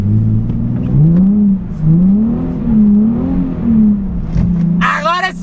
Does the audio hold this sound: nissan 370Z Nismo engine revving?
yes